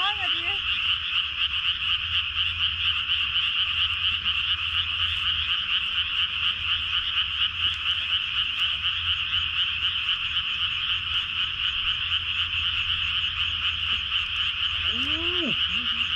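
Frogs croak at night in Korea, a dense, steady chorus of rapid high trills running without pause from start to finish, with a few louder nearby croaks breaking in briefly near the start and again near the end.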